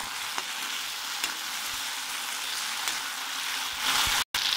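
Gobhi manchurian sizzles and fries steadily in a pan as ketchup and soy sauce are stirred in, a dense, close hiss broken by faint scraping taps and a brief cut near the end, with no talking.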